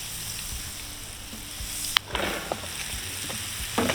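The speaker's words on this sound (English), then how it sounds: "we're gonna fry up the onions on a flat top, some butter and oil" Onions frying in butter and oil on a flat top, a steady close sizzle with a few sharp clicks and scrapes of a utensil.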